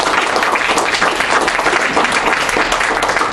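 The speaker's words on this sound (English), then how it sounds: "I think it's worth a round of applause to the chief" An audience at a public board meeting claps for a departing chief, a loud, continuous round of clapping that holds steady start to finish, close and dense with no voices over it.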